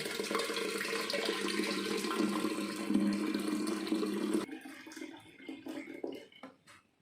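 Sweetened tea poured into a kombucha jar, a loud steady gush of liquid for about four seconds, then tapering off into softer splashes and trickles.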